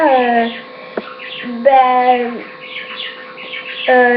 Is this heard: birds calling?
yes